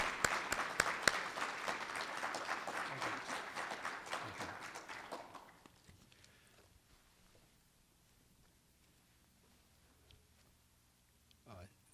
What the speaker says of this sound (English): Let's give a round of applause for our accomplished speaker, Chancellor Young.